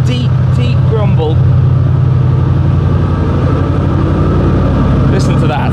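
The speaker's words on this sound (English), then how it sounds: "Oh, that is a powerful, powerful V8 noise that this car makes. A deep, deep grumble." An Audi RS6 V8 running steadily at idle after a start, with a deep, even grumble throughout and a voice talking over the engine.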